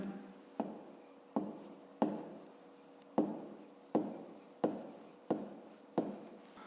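A pen scratches out a math solution on paper in short, rhythmic strokes, about nine distinct scribbles, each starting with a small tap. The sound is close and quiet, with no voice.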